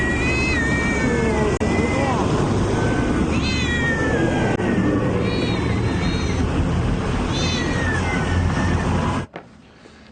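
House cats stuffed into bags on a city sidewalk meow and wail repeatedly, several rising cries over a loud steady background roar, ending abruptly near the end.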